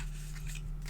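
Scissors trim paper for a folio-style Christmas mini album with a couple of quick, close snips over a low steady hum.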